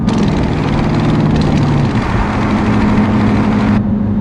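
A 2018 Dodge Challenger R/T Shaker's V8 engine drones steadily while cruising at about 65 mph and 1500 RPM, with a constant low rumble and a fairly loud, even tone that lasts throughout and then cuts off sharply at the very end.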